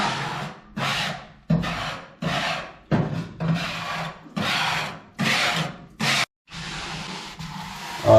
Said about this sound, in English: I just got me a little Scotch-Brite, a little bit of solvent, kind of scrubbing around on all the sides and everything